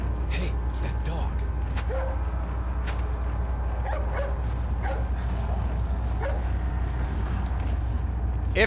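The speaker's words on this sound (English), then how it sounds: "Hey, it's that dog." A dog in the video game Resident Evil 4 barks, yips and whimpers in short, repeated bursts over a low, steady game background hum.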